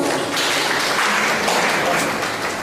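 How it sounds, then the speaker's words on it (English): Many hands clap in a steady, even wash at a Ghanaian community meeting in Tripoli, Libya, welcoming new executives; the clapping runs throughout, with a faint murmur of voices mixed in. "community, a round of applause."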